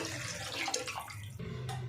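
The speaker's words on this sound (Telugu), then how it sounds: "4 గ్లాసులు వాటర్ అనేది యాడ్ చేసుకుందామండి." Water is poured from a glass into a pot for cooking basmati rice, making a steady, close splashing pour that runs almost the whole moment with a brief break near the end.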